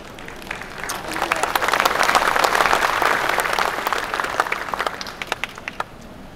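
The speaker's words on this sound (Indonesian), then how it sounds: "Memang tepuk tangan itu kalau tidak ada sepedanya tidak terlalu keras." Audience clapping at a talk about self-reliance, building over the first seconds into a steady, moderately loud wash of applause, then thinning to a few scattered claps near the end.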